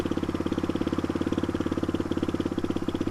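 Close, steady idle of a Suzuki DR250S with a loud Dominator R aftermarket exhaust, a fast regular chain of deep exhaust pulses holding an even loudness the whole time.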